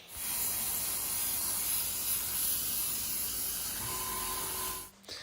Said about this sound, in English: Make sure there's color coming out of your gun before I start spraying.